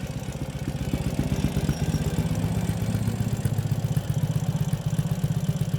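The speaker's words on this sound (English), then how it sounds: "listen to that rumble with this exhaust" A 2016 Ural Gear Up 2WD motorcycle engine idles steadily on a cold start with a deep, throbbing exhaust rumble, loud and close, holding an even rhythm throughout.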